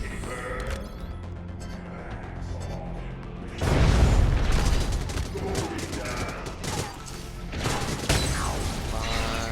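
A thrown bomb detonates in the Void Bastards video game, a sudden loud boom that sets off a dense, sustained burst of crackling, clattering game action after a quieter stretch of busy sounds.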